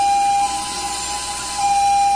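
Ambulance siren in city traffic in Metro Manila, a steady loud tone held over constant road noise, close by and continuous.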